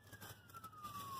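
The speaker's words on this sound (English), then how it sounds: "they've always got that weird double siren sound" A distant ambulance double siren wails, its pitch sliding slowly downward, faint against low background rumble.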